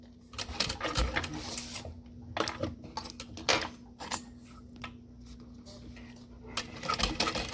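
A sewing machine top stitching a backpack's front panel along its seam, in short rapid whirring bursts separated by pauses, close and fairly loud, with some quiet handling sounds in between.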